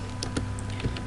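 A computer keyboard clatters with a few quick, close keystrokes as a code comment is typed, over a low steady hum.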